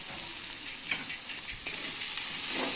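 Curry paste for a Manipuri-style rajma dry fry sizzles in a pan with a soft, even frying hiss and a few faint clicks, growing slightly louder toward the end.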